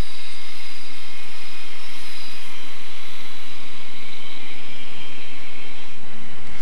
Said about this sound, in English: This is the engine of 232-550 of Deutsche Gleis and Tiefbau LTG